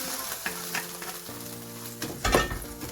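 Chicken and cashew stir fry vegetables sizzle and crackle steadily in a hot pan, with a louder surge of frying as the pan is shaken partway through.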